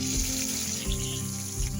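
Chopped shallots fry in hot oil in a heavy pan set on the stove for a beef varattu, giving a steady, close, bright hiss with no pauses and no voices over it.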